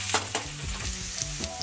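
Beaten eggs with sliced chorizo poured over potatoes frying in a pan for a tortilla, giving a loud, close, continuous sizzle with quick scraping stirs and small clatters, with no voices.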